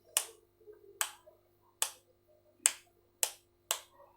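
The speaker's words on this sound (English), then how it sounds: "This is the sound of the on off button." Six sharp clicks from the on/off button of a Syska extension box, spaced roughly evenly about half to one second apart, close and crisp with quiet gaps between.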